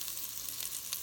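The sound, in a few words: onion sizzling in pan for bacon shrimp corn chowder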